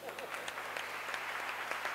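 An audience at a university award ceremony claps steadily, with crisp, scattered hand claps blending into moderate, somewhat distant applause that lasts the whole moment.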